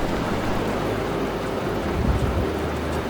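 Steady, dense rain pouring outdoors on the Roopkund trek in India, a constant broad hiss with low rumbling underneath.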